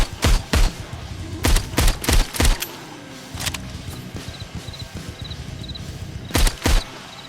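Gunfire in the VR zombie shooter Arizona Sunshine played with the PSVR Aim controller: a quick run of sharp close pistol shots, a pause with faint game ambience and chiming, then two more shots.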